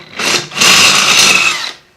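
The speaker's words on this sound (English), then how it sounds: "1/2 inch drill bit through and kind of clean up all the powder coating around the edges for the 1/2 inch bolts to fit through" A power drill with a 1/2 inch bit grinds through the powder coating on a bike jack, two close, loud bursts of whirring and scraping, a short pulse then a longer run that winds down.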